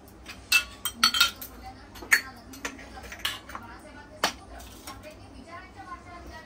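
Metal cooking pots and dishes clink and knock in a home kitchen while fish curry is being prepared, with several sharp clatters clustered early, then sparser taps against soft background noise.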